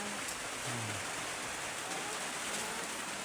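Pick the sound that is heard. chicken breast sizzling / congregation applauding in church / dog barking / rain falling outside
rain falling outside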